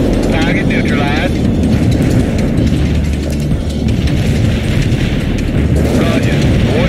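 Artillery rounds detonate in a military video game, a continuous heavy rumble of booms and blasts with radio chatter voices speaking over it.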